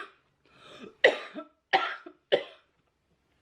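Three sharp, close coughs come in quick succession after a softer breathy throat sound, each a short harsh burst separated by brief pauses, with a faint fourth starting at the end.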